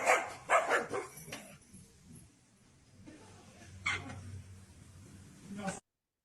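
A corgi barks sharply at a glass barrier, several loud yaps bunched at the start and another burst later, with quieter low whining and muffled activity between, heard as playback from a recording.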